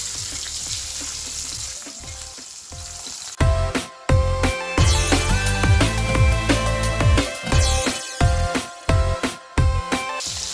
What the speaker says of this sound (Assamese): এতিয়া মাছখিনি ভাজি ল'ব লাগিব